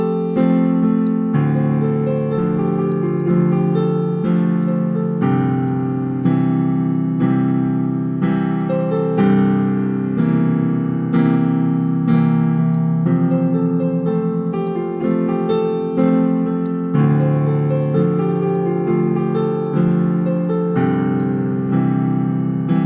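A piano plays the third pre-chorus of a song in sustained, rolling chords and melody notes, with smooth changes every few seconds, heard alone and fairly loud throughout.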